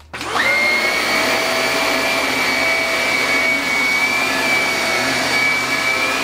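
A Shark Navigator Uplift upright vacuum cleaner starts up and runs steadily at close range, with a loud, continuous high-pitched motor whine and airflow roar and no talking.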